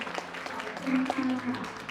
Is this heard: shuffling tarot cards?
no